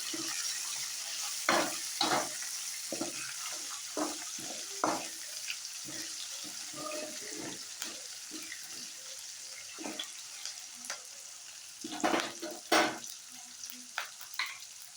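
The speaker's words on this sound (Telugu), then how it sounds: "తర్వాత చిల్లీ, కరివేపాకు వేసుకొని మళ్ళీ ఫ్రై చేసుకోవాలండి." Beetroot with chilli and curry leaves fries in a pan, a steady sizzle broken by repeated close spatula scrapes and clatters in an uneven rhythm.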